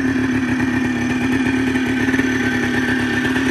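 A 1997 Yamaha Blaster two-stroke engine running at its first start-up after restoration, premixed fuel with oil injection, giving a loud, close, steady buzzing idle with a fast rattling pulse throughout.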